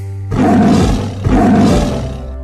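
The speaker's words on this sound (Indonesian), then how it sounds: "Raungan singa terdengar lebih keras." A lion sound effect in a fable gives two loud, deep roars in quick succession, each a swelling rumble close and alone.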